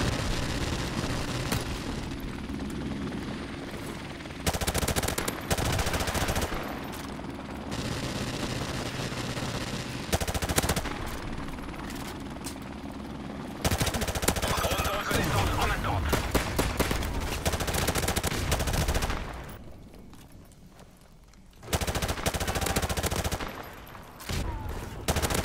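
Rapid gunfire in Call of Duty Modern Warfare Remastered, with dense bursts of automatic shooting and scattered blasts running almost continuously, broken by brief pauses; a player talks at times over the game sounds.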